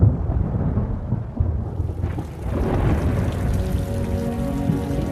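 Deep, rolling thunder from a storm over Botswana rumbles loud and near, with a steady hiss of rain or wind building beneath it as the roar carries on.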